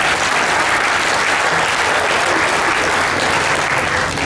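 A crowd at the Daytona Rolex 24 Corvette Corral applauds for Corvette Racing, a loud, sustained wash of clapping filling the whole stretch without pause.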